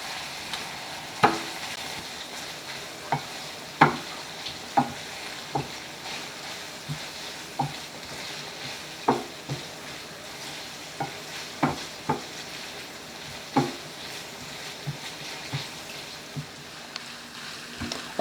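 Hamburger meat and onions browning in a pan give a steady soft sizzle, with a spatula scraping and tapping at irregular intervals throughout, close by and with no talking.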